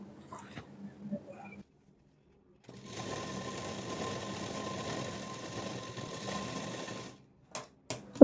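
Sewing machine stitching buckram and fabric pieces for a semi patiala pant, running in one steady, continuous whirring burst of about four seconds, with quiet handling noises before and a few clicks after.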